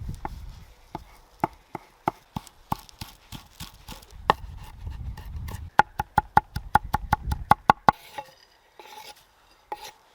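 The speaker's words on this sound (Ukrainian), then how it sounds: "Нарізаю петрушку." Rapid, steady knife chops through parsley on a cutting board, sharp close taps in quick rhythm, briefly pausing before a few final softer cuts.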